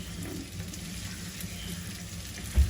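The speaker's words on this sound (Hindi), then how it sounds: "और इसको 20 से 22 सेकंड के लिए हम इसे फ्राई कर देंगे।" Garlic and ginger paste frying in a pan for a pizza topping, a steady close sizzle with a brief louder knock near the end.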